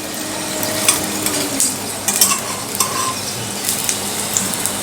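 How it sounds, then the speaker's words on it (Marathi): A crisp snack pan-roasting over a medium gas flame, sizzling steadily up close with a few metallic clinks and scrapes as it gets flipped to the other side. "मिडियम गॅसवरती खरपूस असं दोन्ही बाजूनी हे भाजून घ्यायचं आहे आता आपण हे दुसऱ्या बाजूने पलटून घेऊया"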